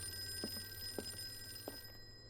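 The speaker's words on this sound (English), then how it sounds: "There's a ringing phone." Telephone ringing in the Call of Cthulhu video game, three short faint ring bursts spaced about half a second apart over a low steady hum.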